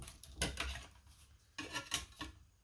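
Paper being cut by hand for a scrapbook card with a secret compartment, close rasping snips and scrapes in two short clusters separated by a quieter pause, with no talking.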